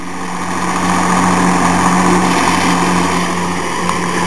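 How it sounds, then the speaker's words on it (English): A New Idea disc mower, about 8 feet wide, cuts pasture grass for hay, its engine droning loud and steady with a constant tonal hum and no talking. "We're using the disc mower to first mow down the grass."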